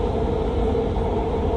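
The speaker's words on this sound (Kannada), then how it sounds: "ಡ್ರೈವರ್ಲೆಸ್ ಮೆಟ್ರೋ ಇದು." A driverless metro train running on its line near Lusail, a steady, loud rumble of wheels on rail that carries on unbroken throughout, heard from inside the moving car with no speech.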